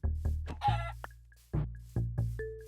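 Minecraft Bedrock chickens cluck in short, close, repeated bursts, with one louder squawk partway through the brief run of calls.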